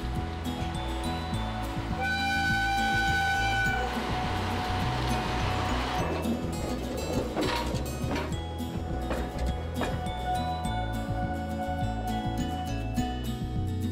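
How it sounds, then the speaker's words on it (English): A newly built Hitachi train rumbles and hisses steadily as it pulls away from the factory, with a sustained horn-like tone early on and a continuous mechanical roar, no voices. "the train will leave the factory where it was kept for the last few months"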